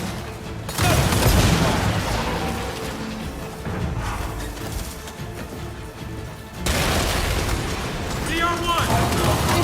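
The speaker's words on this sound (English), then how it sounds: "Did their explosions hurt you like when they died?" Explosions of dying enemies in a shooter video game: loud booming blasts, one big burst near the start and another around two-thirds through, with dense rumbling gunfire-like clatter continuing between them.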